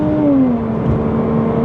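A £10,000 Porsche Cayman's naturally aspirated mid-engine hums loud and close, its pitch sliding down smoothly as the revs drop, with no voices over it.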